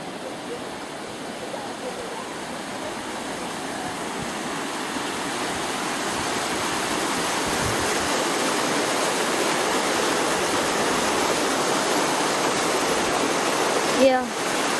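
A river in rural Switzerland rushes steadily and close, a dense broadband roar that holds at an even level throughout, with a brief knock near the end.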